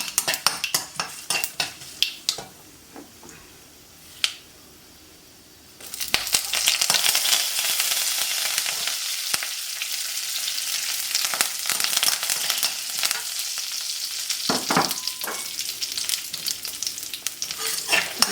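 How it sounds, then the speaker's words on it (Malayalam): Red chillies and curry leaves fry in hot oil, at first with scattered spoon clinks and scrapes, then a sudden loud sizzle and crackle as the leaves go in, with continued stirring against the pan. "മുളകൊന്ന് ഒരു ചുമന്ന നിറമാകുമ്പോഴത്തേക്കും നമുക്ക് കരിവേപ്പില ഇടാം"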